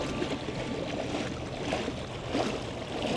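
Small electric outboard motor on a NuCanoe NK300 kayak running at half throttle, a steady broadband whir and water rush close by with no break and no talk.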